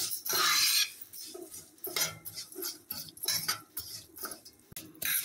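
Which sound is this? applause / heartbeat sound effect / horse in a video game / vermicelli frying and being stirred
vermicelli frying and being stirred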